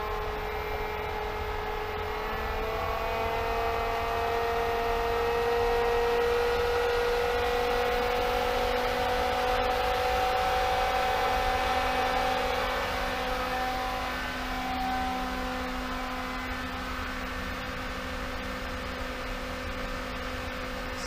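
A variable speed pool pump on a 120 volt installation runs at maximum RPM, giving a steady, continuous motor drone with a constant whine and even loudness throughout, with no talking.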